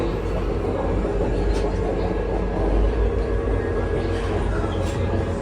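Steady rumbling and rattling inside a moving Indian passenger train travelling between the national capital and Mumbai, a constant low roar of wheels and carriage noise with no break.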